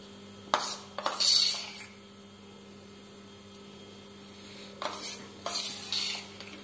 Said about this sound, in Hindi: ये हमने 3 चम्मच दही डालना है इसमें।